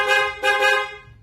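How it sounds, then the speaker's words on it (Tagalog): A loud aftermarket car horn blasts in two sustained, harmonically rich honks with a brief break between them, close and dominant with no talking. "Then loud horn."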